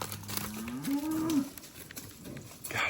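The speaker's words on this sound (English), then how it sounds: "Gosh, she's a pretty cow." A grazing cow on a farm lets out one long, rising and falling moo close by, over steady outdoor background noise.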